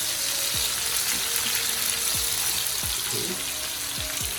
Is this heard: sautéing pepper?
yes